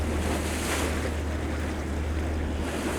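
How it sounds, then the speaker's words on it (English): Water bubbles and rushes out of an overflow tunnel at Marsh Creek State Park during a snowstorm, a steady close wash of sound with no voices. "But right now it's just bubbling out from below."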